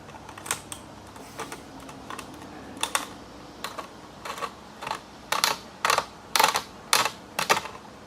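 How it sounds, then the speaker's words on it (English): Hand reaming holes in the plastic body of an Axial SCX10 RC crawler kit gives a run of short, dry scraping clicks in uneven bursts, close up, with no talking. "I'm going to go ahead and ream these out."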